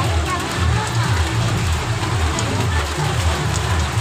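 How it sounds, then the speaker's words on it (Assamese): Heavy rain pouring steadily during Durga Puja, a dense, loud, even hiss of drops on surfaces with a low rumble beneath, continuous throughout with no pauses. "এতিয়া বৰ্তমান যথেষ্ট বৰষুণ হৈ আছে আৰু একেবাৰে বতৰ বেয়া"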